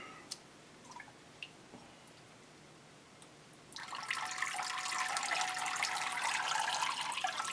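Water flushing through an orchid pot: a few faint drips and small knocks, then a sudden loud, steady rush of pouring water that continues to the end.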